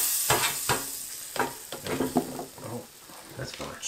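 Mushrooms frying and sizzling in an Outbound stainless steel frying pan, with irregular scraping and clattering strokes from stirring, close and fairly loud.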